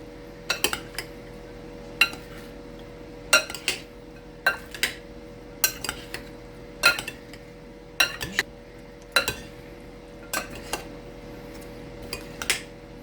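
Chicken bites tossed in a bowl that is a bit too small, giving a regular series of clinks and knocks against the bowl, about a dozen crisp taps spread evenly, close and fairly loud, with no talking.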